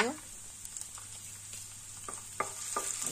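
Finely chopped ginger and garlic frying in a little oil in a pan for chilli momos, a soft, quiet sizzle with a few light stirring clicks toward the end.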